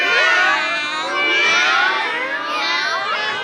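Several children at a Children's Day celebration imitate a cat's meow together, their high, drawn-out voices overlapping in a continuous, lively chorus.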